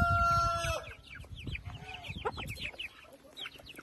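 A chick pecking at a mulberry beside a hen; clucking and soft chicken calls fill the clip, with a denser burst at the start, then scattered peeps and clucks nearby.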